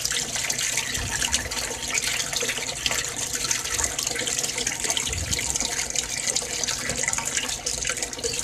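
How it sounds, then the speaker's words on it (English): Water returns into an aquaponics barrel tank while an air hose bubbles beneath it, a steady close splashing and gurgling trickle that carries on without a break. "you can see all of the bubbles that it's blowing out as it's returning the water into the tank and circulating it"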